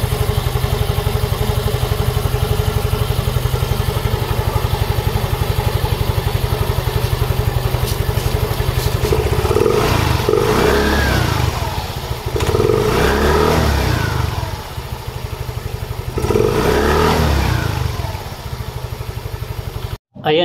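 A Yamaha Mio Soul i 125 scooter runs steadily with its CVT partly serviced after a pulley, oil seal and backplate job, a constant engine drone with a faint rattle and a few swelling revs; talk runs underneath.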